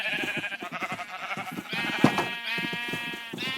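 Sheep in a Minecraft farm bleat again and again, a steady run of overlapping wavering baas with a louder cry near the middle, close and clear with no talking.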